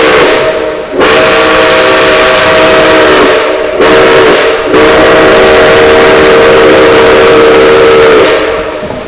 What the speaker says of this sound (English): you can blow the whistle if you want